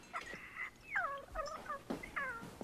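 The Mogwai creature from the film Gremlins sings a soft, high, warbling tune in several cooing, sliding phrases with short pauses between them, close and clear over a faint background.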